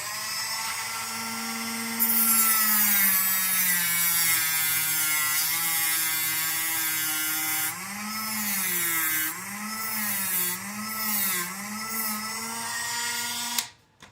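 A small high-speed rotary tool cuts a notch into a radio tray in a model build, its sustained whine holding steady, then dipping and wavering in pitch as it bites into the material, stopping abruptly at the end.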